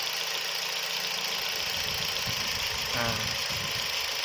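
An engine idles roughly with one spark plug cable pulled, a steady uneven chugging under loud fan or mechanical hiss. One short word is spoken partway through.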